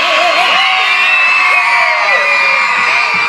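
A loud crowd screams and cheers continuously at a dance studio, with high-pitched whoops and shrieks rising over a dense wall of voices.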